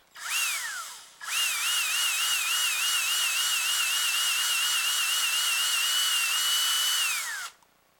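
A small power drill whines loudly and close while boring a 7.5 mm hole in a resin part of a 1/144 scale RX-78-7 Gunpla kit. A brief spin-up and stop comes first, then one long steady run that winds down at the end.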